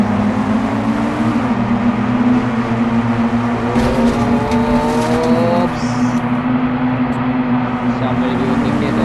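Racing engines from the Indian Bikes Driving 3D game in race mode drone loudly and continuously, with pitch climbing as they rev and accelerate and a voice heard over the engine noise.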